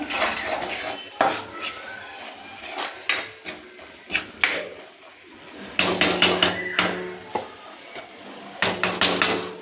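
A spoon scrapes and clanks repeatedly against a pan while onion-garlic masala is sautéed in oil for Kolhapuri tambda rassa, giving irregular sharp metallic knocks and clatters close by.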